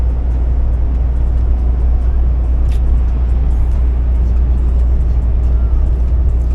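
A steady low engine drone hums inside a truck cab, constant and unbroken throughout with no talking.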